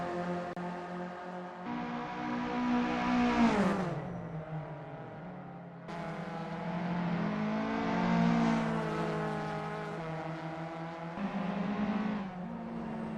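VW Up cup race cars on a circuit, engines revving loud and close as they rise in pitch, drop off, and climb again through repeated acceleration runs with no voices.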